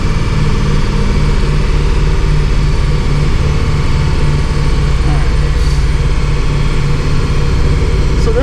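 A stock second-generation Subaru BRZ with the FA24 engine runs a dyno pull, producing a loud, steady, droning engine roar with a constant low rumble that holds at the same level throughout.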